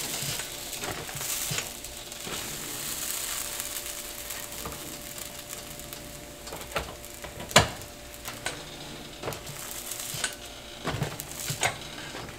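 A giant NYC-style chopped cheese sandwich buttered and freshly flipped on a hot griddle, steady sizzling and frying hiss with scattered spatula scrapes and clicks, one sharp clack midway.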